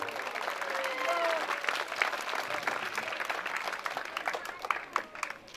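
Village audience at a martyrs' memorial gathering applauds a poet reciting Hindi verse, scattered and uneven clapping with sharp individual claps standing out, while a voice talks faintly beneath.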